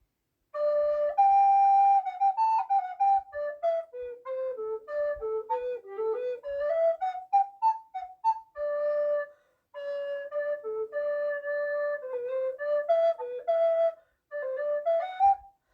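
A solo recorder plays the flowing fugue subject from the third movement of Bach's fourth Brandenburg Concerto, clear and close, with a few short pauses between phrases and no voices.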